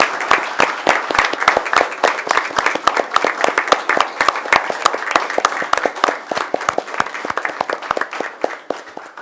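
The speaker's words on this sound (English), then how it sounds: "Let's give them one more round of applause." At a school board meeting, an audience applauds students honoured for their work in math. The crisp, close handclaps run steadily for about nine seconds as one lively, even ovation.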